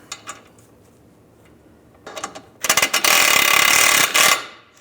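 Hand ratchet snugging a bolt on the front lower rearward control arm of a Volkswagen Beetle, a few quick clicks and then a loud, rapid, continuous ratcheting burst close up before it stops.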